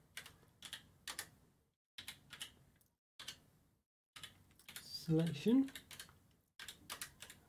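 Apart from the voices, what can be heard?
computer keyboard typing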